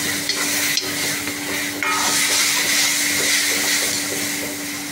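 Onion and mustard paste goes into a hot pan and is stirred, a near, continuous scraping stir over a bright sizzle, with a clatter as the paste drops in.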